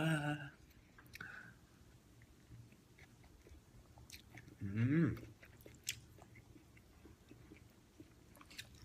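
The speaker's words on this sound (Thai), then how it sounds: "กินน้ำเงี้ยวกันนะคะ" Someone eats khanom jeen nam ngiao, Thai rice noodles in spicy pork and tomato broth, with a soft burst of close chewing and slurping near the middle, briefly preceded by faint speech.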